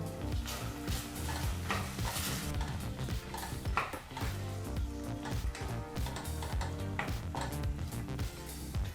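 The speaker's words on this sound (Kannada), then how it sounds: "ಈ ಹಸಿ ಬಟಾಣಿನ ಸರಿಸುಮಾರು ಏನಿಲ್ಲ ಅಂದರೂ 4 ರಿಂದ 5 ನಿಮಿಷ ಮೀಡಿಯಂ ಫ್ಲೇಮ್ನಲ್ಲೇ ಚೆನ್ನಾಗಿ ಫ್ರೈ ಮಾಡಬೇಕು" Green peas fry in oil over a medium flame, a continuous close sizzle broken by repeated scraping and clinking from stirring in the pan, with no voices.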